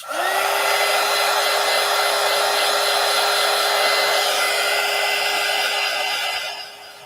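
Handheld dryer blowing over painted art journal pages, a steady loud whirring hum that starts abruptly and runs continuously for several seconds before tapering slightly at the end, with no talk.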